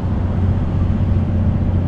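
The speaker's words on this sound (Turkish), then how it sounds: "Bak size biraz retarder dinleteyim" A loaded truck on a downhill ramp runs with its retarder braking, producing a steady low rumbling drone that is loud and close throughout the short span.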